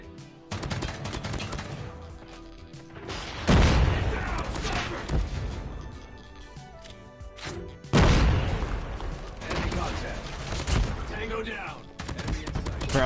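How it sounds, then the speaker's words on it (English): Heavy booming shotgun blasts from the JAK-12 in Call of Duty Mobile land in two big waves amid a busy crackle of other gunfire, with a voice talking underneath. "they're trying to shoot through walls"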